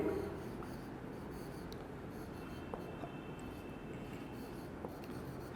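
Writing keywords on a board during a chemistry lecture, faint steady scratching strokes over a quiet room hiss, with a couple of light taps and no talk.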